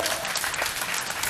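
Dense applause from an audience at a school awards ceremony, a steady loud wash of many hands clapping throughout.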